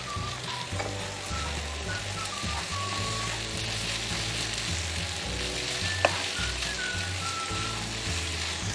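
Finely chopped capsicum (two medium bell peppers) sizzles and crackles steadily as it is stir-fried in a hot pan for a spaghetti dish, with the occasional clink of a spatula, close and continuous with no talk.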